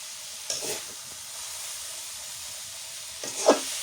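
Kalmi greens sizzle and hiss steadily in a hot pan, with two brief louder bursts of stirring, near and alone.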